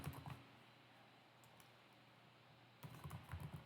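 Quiet keystrokes on a computer keyboard, a short cluster of clicks at the start and another burst near the end, with a faint steady room hum between and no voices, while a networking lab is being configured.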